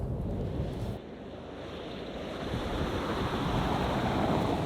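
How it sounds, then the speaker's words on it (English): Steady road and tyre roar inside the cabin of a Walkinshaw-tuned Ford Ranger on chunky all-terrain tyres, a broad rushing drone that holds loud and constant, dipping briefly before swelling again. "you will notice a bit more road noise with these tyres"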